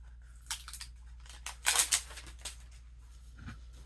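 Scissors cut through sheath material for a saber, giving a few short, crisp snips and crinkles. The loudest burst sits near the middle, with softer cuts before and after, all close up and with no talk.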